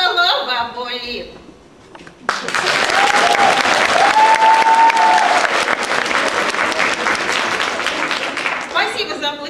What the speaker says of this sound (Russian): Спасибо за аплодисменты